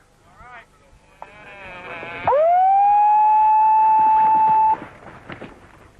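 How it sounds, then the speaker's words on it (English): A loud electronic buzzer sounds once with a steady tone for a couple of seconds, signalling the start of a hang gliding heat launch window, preceded and followed by faint background noise and brief voices. "After the buzzer has sounded"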